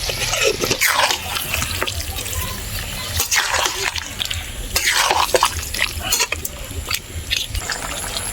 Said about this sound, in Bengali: এবারে মাংসের মধ্যে কিছুটা জল দিয়ে ঢেকে দেব।